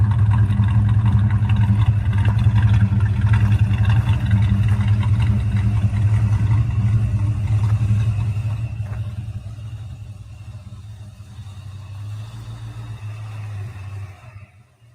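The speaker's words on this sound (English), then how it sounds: "This is my old Ford F-100." Old Ford F-100 pickup truck with a 302 V8 and four-speed floor shift, its engine rumbling loudly and steadily, then easing to a softer idle-like drone toward the end.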